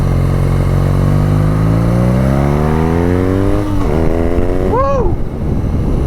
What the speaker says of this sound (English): And give it a little gas going into this last stretch.